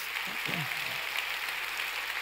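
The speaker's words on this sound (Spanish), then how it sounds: "Vamos, si va a aplaudir, hágalo con ganas." Church congregation applauding during a sermon, a steady broad wash of clapping throughout with a brief voice cutting through near the start.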